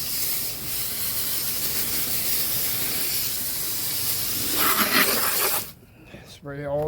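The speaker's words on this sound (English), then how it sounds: "And then I just spray it down this way." Water sprays steadily from a hose onto the coils of a Trane outdoor AC unit during a deep clean, a close continuous hiss that cuts off abruptly before a voice.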